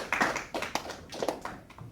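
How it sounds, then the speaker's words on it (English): Classroom students clapping for a classmate, a short burst of uneven, sparse hand claps from a small group, close and fairly loud. "Alright guys, give it a round of applause for Ivan."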